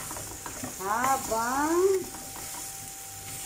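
Ampalaya with egg being stirred in a pan, a steady soft sizzle with scraping strokes, while a voice speaks briefly over it.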